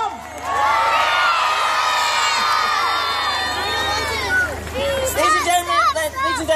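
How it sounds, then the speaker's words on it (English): A crowd at an outdoor statue unveiling cheers loudly and steadily for children who brought signs and posters, with whoops and shouting voices rising over the roar before it breaks into scattered calls and chatter. "lots of cheering for the kids that have brought all these fantastic signs and posters"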